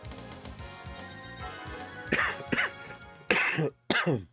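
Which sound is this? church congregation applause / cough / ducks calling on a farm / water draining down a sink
cough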